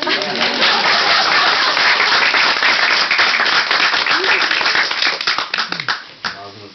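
Applause from listeners at a Keloğlan folktale storytelling in Beypazarı's living museum, with dense, loud clapping and voices mixed in, breaking into scattered individual claps before it dies away.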